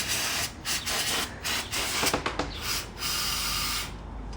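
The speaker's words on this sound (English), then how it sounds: "you just get some brake cleaner" Brake cleaner sprayed from an aerosol can onto a car's brake caliper gives a series of loud, close hissing bursts with short pauses between them. No talking is heard.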